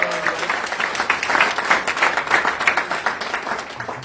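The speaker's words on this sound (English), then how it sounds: "Give a round of applause to these guys." A room of people at a company transformation day gives a round of applause: dense, steady clapping at moderate loudness that holds across the whole span, with scattered louder claps standing out from the mass.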